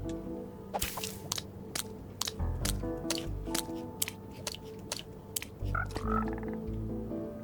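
Cold-weather frogs in Minecraft make repeated croaks and sharp clicky calls over a low steady background hum, irregularly spaced and moderately close.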